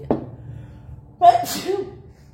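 A single sharp, close sneeze, preceded by a short quick intake of breath in a quiet indoor setting.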